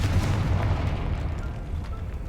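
A booming blast from the Confringo spell in the video game Hogwarts Legacy, a loud low rumbling explosion that fades out slowly, with no voice over it.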